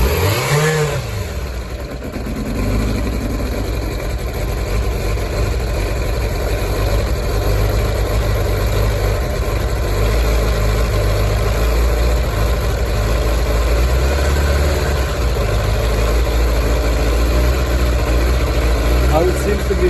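Suzuki GSX600F second-generation K6 motorcycle, fitted with new spark plugs during troubleshooting, fires up and then holds a loud, steady, close-range idle throughout.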